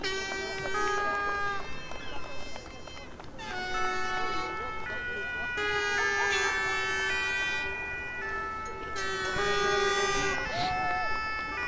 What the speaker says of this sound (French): Et à nouveau, les sirènes des pompiers des Sables d'Olonne.